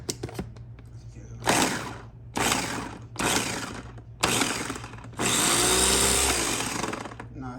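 An electric chopper whirs in short bursts while chopping salsa ingredients, four quick pulses and then one longer continuous run, close and loud, with some brief talk between bursts.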